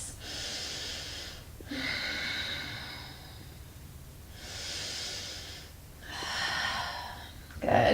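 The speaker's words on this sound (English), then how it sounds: "And then take 2 big breaths." Two big, deep breaths taken during a yoga stretch: slow airy inhales and exhales close up, alternating in a steady rhythm, with a faint thump at the end and no talk.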